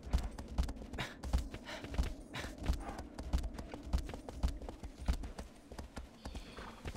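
In Shadow of the Colossus, horse hooves clop in a steady galloping rhythm, close and prominent, with faint ambient wind behind.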